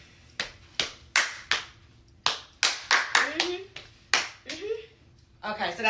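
Hand claps beat out a cheer routine, about a dozen sharp claps at an uneven rhythm, close and crisp, with a voice and other talk mixed in.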